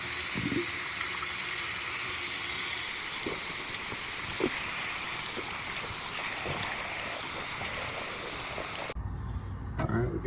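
Water flushing through a clogged furnace condensate drain tube, a continuous close hissing gush with a few faint knocks, ending in a lower rumbling tail.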